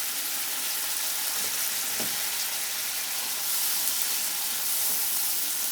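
Mixed fried-rice vegetables with soy sauce sizzle steadily in a hot pan, a continuous frying hiss with faint scrapes from stirring and no talking.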